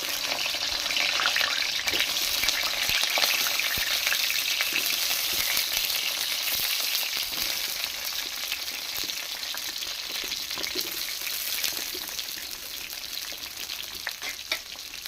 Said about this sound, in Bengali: তেলটা গরম হয়ে গেছে আমি এর সঙ্গে আলু পটলগুলো দিয়ে দিলাম